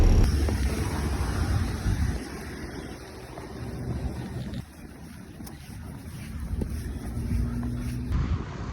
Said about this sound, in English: It is so windy and so like like I'm fighting with my umbrella for my umbrella to stay.